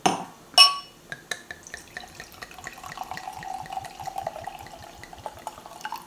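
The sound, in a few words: pouring a glass of wine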